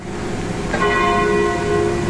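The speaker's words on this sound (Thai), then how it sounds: "เสียงระฆังเริ่มตีอีกแล้วนะคะ" A church bell struck softly once, its clear ringing tone sustaining and slowly fading over a quiet outdoor background, with no talk.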